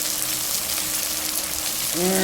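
Cabbage, okra and horse gram sautéing in a pan give a close, steady broadband sizzle, with a brief voice-like tone near the end.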